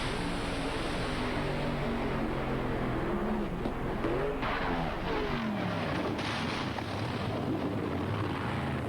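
A nitro drag racing car's engine keeps running after the car blows over, a loud, steady roaring drone that carries on unbroken, with crowd and track noise around it.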